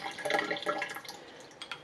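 A teaspoon of water is poured into a paint mix, a brief soft trickle and splash of liquid, close and quiet with no talking.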